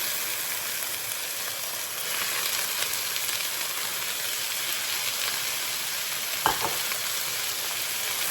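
Bean sprouts fry in a pan for egg rolls, a steady loud sizzle and hiss running throughout with a brief clatter near the end.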